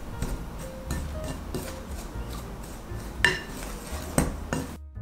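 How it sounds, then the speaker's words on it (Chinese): Flour, milk powder and yeast being stirred together in a bowl for bread dough, heard as close clinks and scrapes of a utensil against the bowl, with several sharper knocks spread irregularly through the stretch. "然后把材料简单的搅拌一下"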